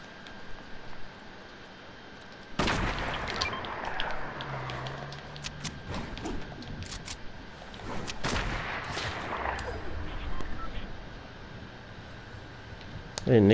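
Gunfire rings out in Fortnite, two sharp loud reports several seconds apart, each trailing into a rolling echo, over low background game noise.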